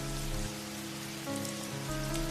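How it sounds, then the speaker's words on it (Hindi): Heavy rain pours down steadily, a dense hiss of drops hitting surfaces with a faint tonal hum underneath, continuous throughout with no voices. "तभी तेज बारिश शुरू हो जाती है।"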